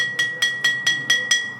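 Six evenly spaced clear strikes on a glass bottle filled with water, each ringing with a lower tone and decaying briefly before the next, with no other sound.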